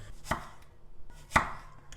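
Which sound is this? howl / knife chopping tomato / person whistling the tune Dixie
knife chopping tomato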